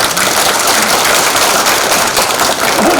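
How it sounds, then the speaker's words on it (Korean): Dense, steady applause from an audience at a ceremony in Yeosu marking the 72nd anniversary of student soldiers' Korean War deployment, loud and continuous for the full three seconds as a dignitary is introduced. "큰 박수 부탁드립니다."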